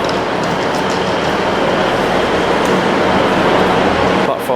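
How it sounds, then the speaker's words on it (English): A train rolls past on the line to Darlington, a loud, steady rumble of wheels and carriage noise holding at close range for the whole stretch without a break. "This is our next train now to Darlington."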